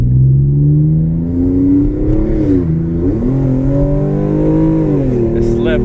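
A Hyundai Genesis Coupe 3.8 with an automatic transmission accelerates at full throttle, its engine roaring loud and close, the pitch climbing and dipping with gear changes throughout.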